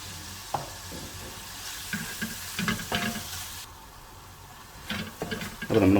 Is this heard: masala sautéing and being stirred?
yes